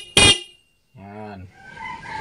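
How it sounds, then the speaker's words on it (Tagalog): A stock car horn gives one short, loud honk, followed by a voice speaking nearby. "nandyan pa rin yung stock horn natin."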